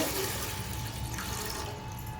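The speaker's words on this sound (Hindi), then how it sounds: "देखो इतना पानी डालेंगे," Steady stream of water pouring into a metal pressure cooker, a continuous close splashing rush.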